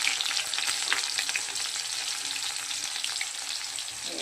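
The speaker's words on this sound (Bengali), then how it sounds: "এবার দিলাম পেঁয়াজ কুচি।" Chopped onion fries in a pan over cumin already cooking, giving a loud, steady crackling sizzle throughout with no voices.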